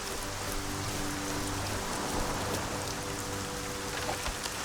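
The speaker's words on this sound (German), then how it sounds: "So, jetzt regnet es da schon wieder." Steady rain falls in the fantasy video game Arcania: Gothic 4, a dense, even hiss of drops on surfaces throughout, with a faint low drone underneath and no speech.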